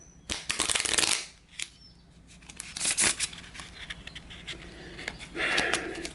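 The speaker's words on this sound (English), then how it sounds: "See if I can do the old bridge shuffle in midair." A deck of game cards is bridge-shuffled in midair, giving bursts of rapid riffling flutter and crisp snaps, loudest at the start and again near the middle and end, with quieter handling noise between.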